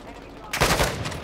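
Gunfire in Call of Duty Modern Warfare 2: after a quiet start, a sudden loud burst of rapid automatic fire erupts midway and keeps crackling to the end.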